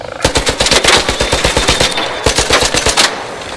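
Rapid bursts of gunfire crackle up close and loud, sharp repeated shots in fast, uneven volleys with a brief gap before a final cluster, and no talking over them.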